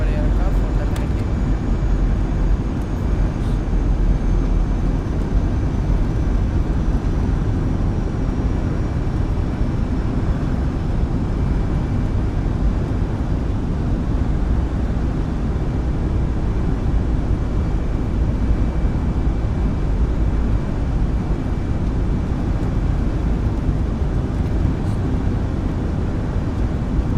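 A steady, broadband drone of an aircraft in flight inside a flight simulator game, on approach toward Kathmandu, a constant engine and airflow roar that holds level and unbroken throughout, with a voice talking over it.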